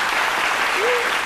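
Brief burst of dense audience applause in a television studio, steady and fairly loud, with a faint voice rising briefly near the end.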